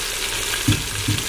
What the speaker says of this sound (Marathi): आता हे तेलामध्ये चांगला ते भाजून घेऊ चांगलं तेल सुटेपर्यंत हे मसाले भाजून घ्यायचे